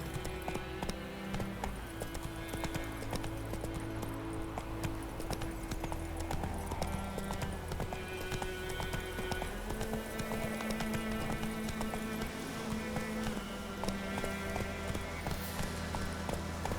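Hoofbeats of a galloping horse in The Witcher 3: Wild Hunt, a steady fast clip-clop rhythm running throughout over continuous game music and ambience.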